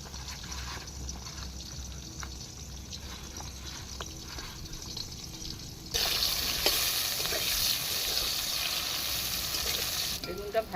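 Eggplant fries in oil with a moderate sizzle that jumps to a louder, brighter crackle partway through and continues to the end.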